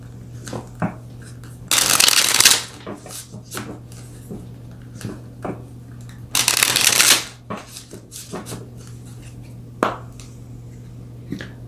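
Tarot cards are shuffled in two loud, close riffling bursts a few seconds apart, with quieter handling taps and clicks of the deck in between and no speech.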